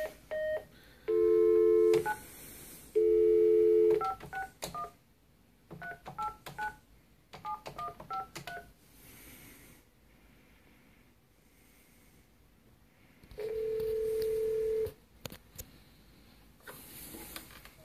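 Telephone dialing and signaling tones play through a 1915 candlestick phone connected to a MagicJack while transferring a call, with long steady tones, clusters of short dial beeps and clicks, and pauses between them.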